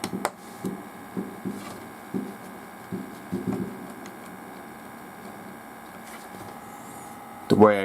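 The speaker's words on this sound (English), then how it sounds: "I put it in like that, and I push it in and screw it in." An M.2 SSD is pushed into a 2.5-inch SATA adapter and screwed down, small plastic and metal clicks and taps close by, scattered singly, ending in a louder clatter.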